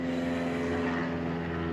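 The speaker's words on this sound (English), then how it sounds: "There goes an airplane." A propeller airplane drones steadily overhead, a constant low hum with a layered engine tone that holds level throughout.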